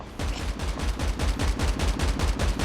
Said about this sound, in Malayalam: വെടി കിട്ടുന്നുണ്ട് നല്ലോണം.